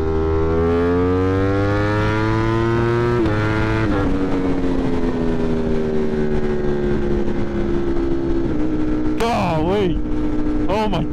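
A 200+ horsepower motorcycle rides through an underpass, its loud, close engine holding a steady drone that rises and falls through gear changes, with a sharp rev burst near the end.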